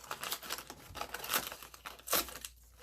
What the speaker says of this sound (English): use our pinking shears, our scissors like these, to give it a nice trim at the end